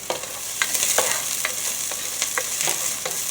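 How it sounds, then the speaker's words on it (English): Onions browning in a pan for meatballs with marinara sauce, a continuous close sizzle broken by repeated sharp scraping and stirring strokes at an uneven rhythm, with no voices. "So we're going to brown the onions up."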